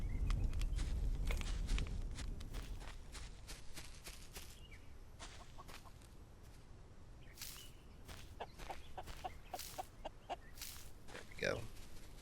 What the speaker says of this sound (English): I think I'll go feed these chickens real quick.